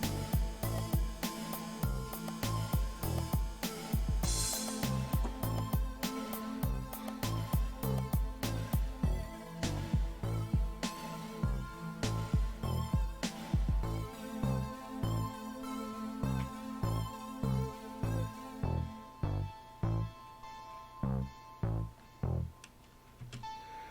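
Music track outro playing back during a production session, with layered tonal parts and steady percussive hits, the kick and snare cut out toward the end; continuous and fairly loud, with no voices.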